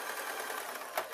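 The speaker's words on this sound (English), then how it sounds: "taking it out of the sewing machine" A sewing machine stitches a seam on a fleece slipper, giving a brief, quiet, steady mechanical whir with a small click near the end.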